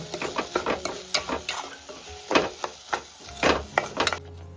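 Roasted rice and jaggery are stirred in a pan, probably with a wooden spoon. Repeated scraping strokes and scrapes come in an uneven rhythm over a light sizzle, close and fairly loud, with no talking.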